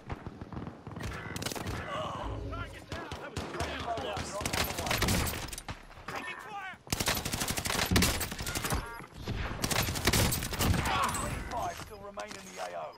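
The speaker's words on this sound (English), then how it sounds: "They shoot me!" Bursts of rapid gunfire crackle and rattle in waves, with a short break midway, amid a busy mix of game effects in Warzone.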